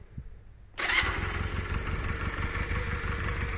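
A Honda CA 125 Rebel motorcycle engine cranks and catches after a quiet moment, then settles into a steady, close idle rumble.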